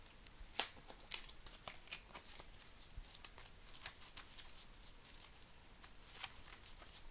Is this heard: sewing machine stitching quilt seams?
no